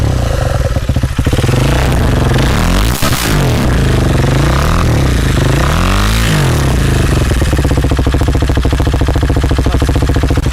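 A 2020 KTM Duke 390 BS6 single-cylinder motorcycle runs with its muffler removed, its loud, raw, close engine idling roughly and then snapping into two sharp revs.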